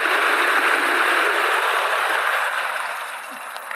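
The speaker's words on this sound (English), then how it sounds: "Some water crossing there." A Stealth Bomber electric motorbike with a 72v 40ah battery and big tires, no fenders, splashes through a water crossing, a loud, broad, continuous rush of spray that eases slightly toward the end.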